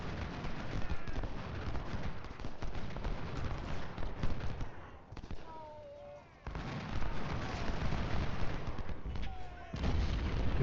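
Artillery fire in the Civil War strategy game Ultimate General: Civil War, a continuous rumble of booming cannon and crackling musketry that briefly thins out midway, with faint bird chirps and whistles over the top.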